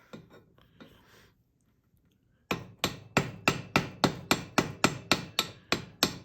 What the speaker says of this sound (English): it's pretty popular to just take a little hammer and